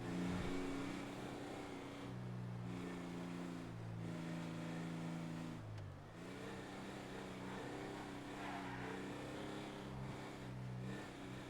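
Video game car engines idle with a low, steady hum and occasional small revs, several vehicles layered close by, with a brief dip partway through.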